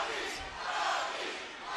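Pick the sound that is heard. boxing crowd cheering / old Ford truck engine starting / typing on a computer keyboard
boxing crowd cheering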